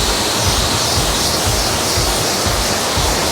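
Power washer at a carwash spraying water onto a motorcycle from several feet away, a steady loud hiss of spray running continuously without breaks.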